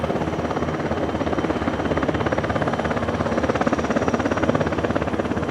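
A helicopter's rotor thumps in a fast, steady rhythm, loud and close, continuing without a break for several seconds, at the 2019 Paris Air Show at Le Bourget, France.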